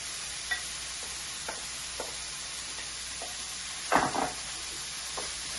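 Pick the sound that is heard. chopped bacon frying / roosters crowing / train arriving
chopped bacon frying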